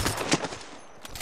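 A quick burst of gunshots in the battle royale shooter Apex Legends, a few sharp cracks in rapid succession, fairly faint and short.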